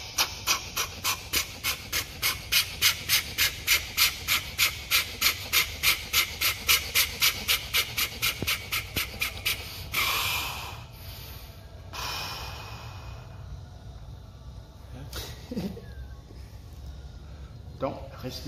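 Controlled breathing for pain management: about thirty quick, rhythmic panting breaths in a steady series for roughly ten seconds, close and loud, then quieter breathing and rustling.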